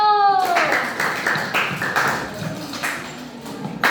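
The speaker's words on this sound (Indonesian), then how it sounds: "Kasih aplaus untuk kelompok 1" A room applauding a student group at a class presentation: a burst of quick, close clapping that follows a spoken call and then tapers off slowly.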